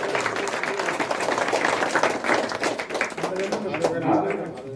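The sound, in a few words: crowd applauding in temple assembly hall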